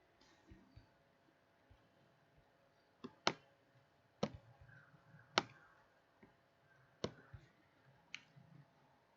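A computer mouse clicks as a picture is inserted into an MS Word document: about seven crisp, faint clicks at irregular intervals in a quiet room, close to the microphone.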